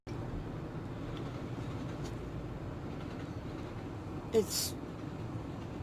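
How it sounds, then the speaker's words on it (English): A train passes at a distance as a steady, low rumble in the background while a person talks over it briefly. "Oh, oh, oh, the train's going."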